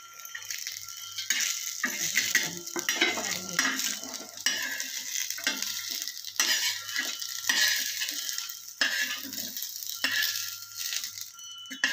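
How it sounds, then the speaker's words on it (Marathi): Grated coconut is sautéed in a pan for a masala, giving a steady sizzle with frequent scraping and rattling of a spoon against the metal pan, close and loud throughout, with no talking. "ते खोबरं पण आता आपण थोडंसं परतून घेऊया"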